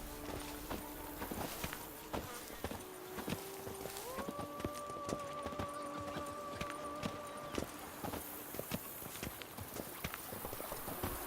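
Roach, the horse in The Witcher 3, walks at a steady clip-clop, hooves striking hard ground in an even rhythm at moderate distance beneath soft ambient tones.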